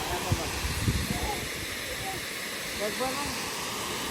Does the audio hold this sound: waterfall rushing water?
yes